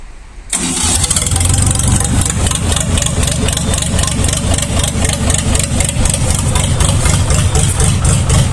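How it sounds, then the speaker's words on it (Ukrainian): DD 390 diesel engine on a DTZ 5244 HPX tractor running with its muffler removed, a loud, raw, steady unmuffled clatter that kicks in after a brief quieter start and holds close and constant. "відкрутять глушака, щоб можна було його сюди запхати. Ну і почуємо як працює ДД 390 без нього."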